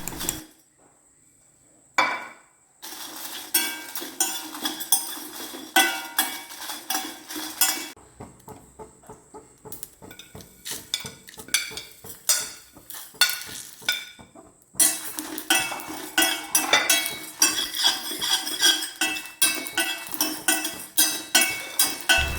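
Dried chillies and black pepper dry-roasted in a pan, a spatula scraping and clinking against metal in quick irregular strokes, close and fairly loud, with short pauses between bursts of stirring.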